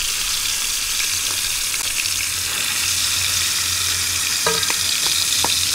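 A steak fries in a very large pan with a loud, continuous sizzle, close up, and a few sharp utensil scrapes and taps toward the end. No one speaks.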